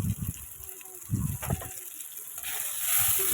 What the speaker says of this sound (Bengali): অল্প করে জল দিয়ে দেবো, আবার সুন্দর করে কষিয়ে নিতে হবে।